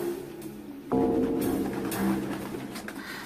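Cartoon doves cooing, with a sudden burst of flapping as the birds take off and fly away; the sound is close and moderately loud, alone and without talk.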